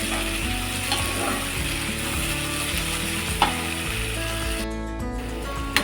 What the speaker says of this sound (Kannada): ಸೊ ಇವಾಗ ಇದು ಫ್ರೈ ಆಗ್ತಿದೆ.